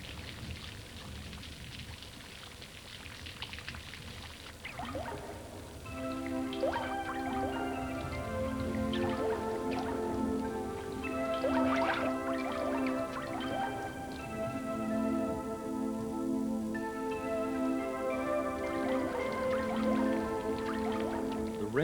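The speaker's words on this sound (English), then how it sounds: "Water runs everywhere amid the rumbling, turning the flying buttresses into waterfalls where gargoyles huddle in the dark." Rainwater pouring and dripping off the gargoyles and flying buttresses of Notre Dame in Paris after a storm, a steady wash of running water with scattered drips throughout, moderately close.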